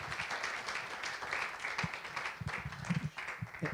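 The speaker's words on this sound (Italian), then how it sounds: "Grazie Roberto, un applauso a Roberto." Audience applause after a lecture, a dense patter of many hands clapping together, fairly loud and sustained through the whole stretch with no talk over it.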